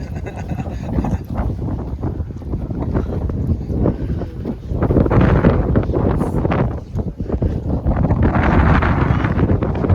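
Strong gusts in Cappadocia, Turkey, batter the microphone with loud, rumbling roars that swell and ease, growing fiercer in the second half.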